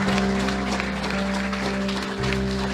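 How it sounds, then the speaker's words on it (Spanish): Congregation applauding in a church during a sermon, steady dense clapping that sits over a sustained organ or keyboard chord and carries on without a break. "Si ese aplauso es para el Señor"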